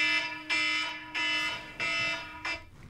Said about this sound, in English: Now imagine that's my alarm to wake me up.